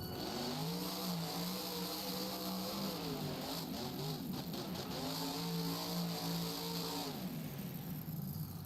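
El Toro Loco monster truck gunning its engine toward the finish at a Las Vegas arena event: a loud engine roar that rises in pitch in two strong surges before dropping away, over a constant crowd din.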